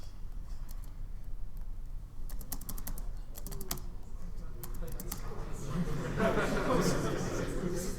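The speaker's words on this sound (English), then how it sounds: "So I'm controlling it with the arrow keys." Arrow keys on a computer keyboard are tapped in quick irregular clusters during an interactive program demo in a lecture hall, with a continuous hum and rising murmur of room noise under the clicks.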